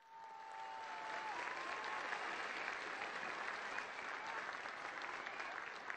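An audience applauds at a large public event in the municipality of Acambay, Mexico. The clapping is sustained and even throughout, with a faint tone briefly audible at the start.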